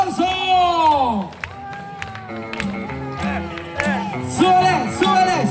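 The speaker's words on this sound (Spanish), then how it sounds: "¡Venga! ¡El aplauso!" Crowd at a carnival celebration in Chontla, with clapping and cheering mixed under loud, continuous shouting and voices over music-like tones.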